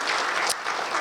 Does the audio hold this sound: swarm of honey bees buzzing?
no